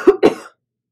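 Two sharp coughs in quick succession, close and loud, followed by a brief raspy trailing breath, then silence.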